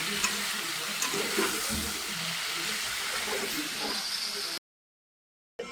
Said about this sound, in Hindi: हमर अखन हम माछ छानि रहल छी